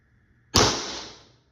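A single sharp, loud crack from a modified Umarex T4e HDX airgun running on a 90 gram CO2 cartridge, a sudden close report trailing off in a hiss of roughly a second.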